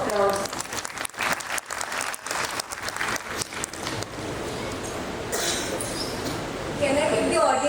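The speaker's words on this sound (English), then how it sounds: "Let's bless them with a huge round of applause." Audience at an annual function clapping in a dense burst of applause, loud and fairly close at first, then thinning to a lighter, steadier patter.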